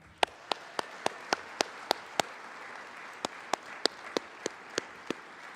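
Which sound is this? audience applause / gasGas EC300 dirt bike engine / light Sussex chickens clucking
audience applause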